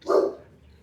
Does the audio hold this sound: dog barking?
yes